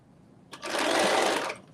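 A sewing machine runs a loose basting stitch through dress fabric in a single steady burst of about a second, loud and close with no talking.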